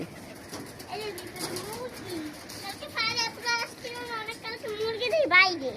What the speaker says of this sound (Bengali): কি সুন্দর কবুতর